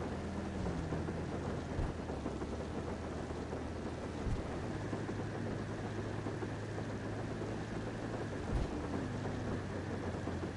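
Steady rain in a video game while driving a taxi, heard as a dense, even hiss that continues unbroken throughout, with a low engine drone underneath and occasional soft thumps.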